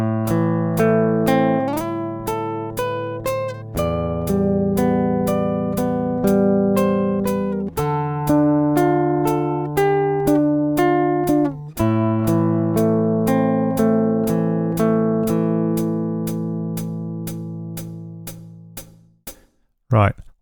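An acoustic-toned guitar, played left-handed, picks a song's melody as a bright run of single plucked notes with a low held note underneath, steady and close, fading at the end.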